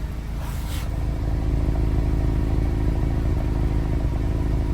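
An Acura RSX engine idles steadily after an OEM clutch replacement, a constant, even low hum with a light mechanical clatter, heard close and alone after a brief rising whoosh.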